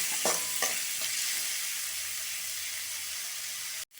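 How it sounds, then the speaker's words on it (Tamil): Tomatoes fry and get stirred in a hot pan for a Tamil sundakkai thuvaiyal, a steady close sizzle with a few scraping stirs near the start, ending in a brief sharp cut. "இப்போ நம்ம தக்காளி ஆட் பண்ணிக்கலாம். தக்காளி நல்லா மசிஞ்சு வணங்கணும்."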